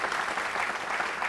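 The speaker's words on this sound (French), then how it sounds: "Est-ce qu'on peut applaudir déjà, s'il vous plaît, Polo Chacal?" A studio audience claps for a guest on a talk show, a short, moderately quiet burst of steady clapping heard on its own.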